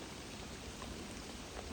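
Rain falling at a private lake near Hampshire, a dense, even hiss of drops that holds steady and loud throughout with no pauses.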